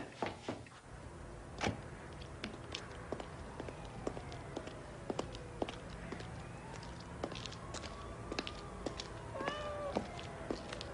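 A house cat meows several times in a quiet room, the cries faint and spaced apart against a low background hum, with a few soft thumps and movements nearby.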